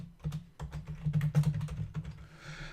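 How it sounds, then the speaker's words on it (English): Keys clatter in quick, uneven bursts on a computer keyboard as a store name is entered into a spreadsheet cell, close and fairly loud throughout, with a short pause near the start and a faint hiss trailing at the end. "I'm going to type in the name of my store"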